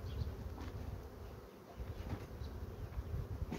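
Honey bees in an opened hive during frame inspection and formic acid treatment, a dense continuous buzzing swarm close by, steady and alone with no talk.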